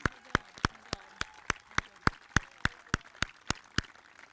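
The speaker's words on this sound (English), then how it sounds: "If you give Coach Crabtree a round of applause," Applause at a high school senior athletic awards ceremony, heard as a steady series of about thirteen sharp, evenly spaced claps, moderately loud and close, with faint background murmur.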